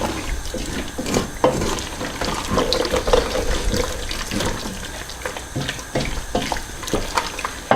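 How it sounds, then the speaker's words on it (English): Red wine sizzling and bubbling in a hot pan for an Italian beef stew, a steady close hiss and crackle with watery churning throughout, no voices. "adding the red wine now is just to cook out some of that alcohol"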